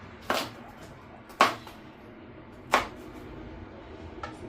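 Onions are chopped on a board in a kitchen while preparing pork ribs: three sharp, well-spaced knife thuds, with a fainter fourth at the end, over a quiet room background.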